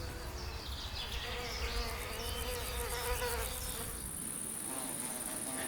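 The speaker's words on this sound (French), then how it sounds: "De nouvelles fleurs attirent de nouvelles abeilles." Wild bees buzz steadily in a spring meadow, a continuous layered hum of several insects close by, with no voices.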